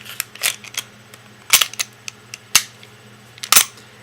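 A Springfield XD9 pistol being loaded, with a series of sharp metallic clicks and clacks in uneven bursts, close and fairly loud, with no talk.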